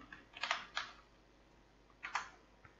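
Faint clicking of computer keyboard keys in a quiet room, two short clusters of taps about a second and a half apart.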